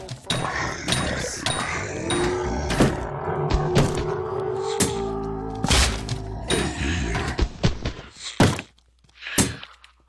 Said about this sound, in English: Lucky chest is always back there, so I'm gonna open this